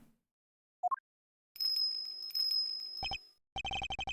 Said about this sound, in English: Is that bell around its neck?